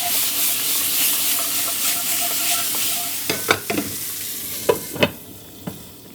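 Beef chop dropped into a pan with browned garlic fries with a strong steady hiss, then several sharp spatula scrapes and clacks punctuate the sizzle toward the end; no voices.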